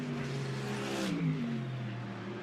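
A GT race car storms past on the Brands Hatch circuit during free practice, its engine note rising and then dipping as it sweeps by at close range, loud and steady with no talk over it.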